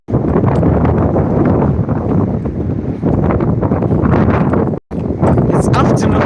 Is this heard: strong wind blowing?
yes